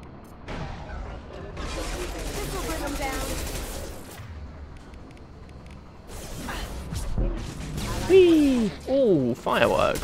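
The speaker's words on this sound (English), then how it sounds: "Fireworks." In a video game, fireworks go off in rapid, crackling bursts and booms, some whistling, with someone talking loudly over the repeated explosions.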